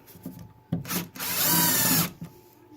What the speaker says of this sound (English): I always just kind of use the screws to screw it in all the way